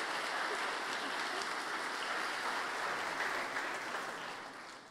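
A large crowd at a college convocation gathering applauds the kindergarten children, a dense, sustained clapping that stays steady and then fades toward the end.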